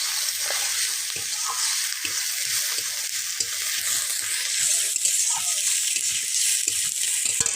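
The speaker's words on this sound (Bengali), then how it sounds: "পেঁয়াজ বাটাটা একটু নেড়ে নেবো ভালো করে," Onion paste sizzles in oil after bay leaves go in, with a bright, steady frying crackle and repeated scraping stirs of a spatula against the pan, close and fairly loud throughout.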